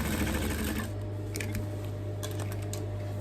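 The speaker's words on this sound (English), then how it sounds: "so I'm going to go ahead and sew my side, the sides, like join these sides together" A sewing machine stitches the side seams of a button-down shirt, its motor humming steadily while the needle runs in brief bursts with light clicks, close and fairly quiet.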